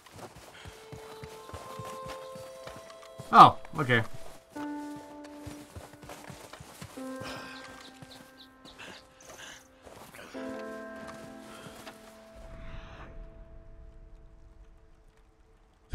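Horse hooves clip-clop in a video game while the horse walks over rough ground, as soft, uneven thuds under game music tones and occasional louder bumps. Someone briefly speaks.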